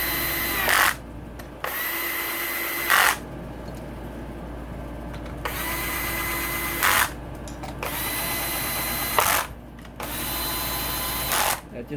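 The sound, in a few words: Black & Decker drill driving bolts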